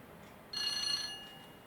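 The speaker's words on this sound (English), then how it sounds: "AWS bell." A single AWS bell from a sound decoder fitted to a TT:120 Class 50 model locomotive rings as a steady, sustained bright metallic tone, starting suddenly and holding for about a second before fading slightly, played alone.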